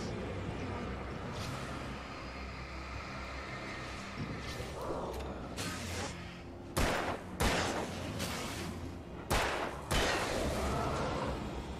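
Gunfire in the video game Alan Wake: several sharp shots crack out over a dense game soundscape with music and ambience, spaced irregularly through the second half.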